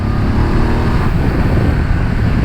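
A 2019 BMW F750GS motorcycle engine revs up, a steady, loud, close mechanical drone with no voices over it.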